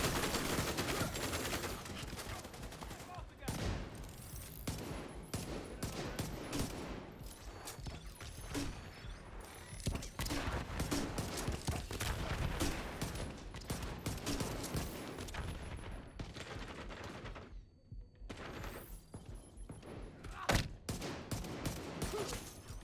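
Dense automatic gunfire and rapid bursts of shots in the video game Division 2, loud and nearly continuous with brief gaps, crackling fusillades stacked on one another.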